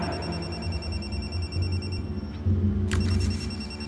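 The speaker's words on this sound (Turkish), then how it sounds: "Telefonu bana at!" A telephone rings in a tense crime-drama scene: a steady electronic trilling tone under a low hum, with a brief burst of higher ringing pulses near the end.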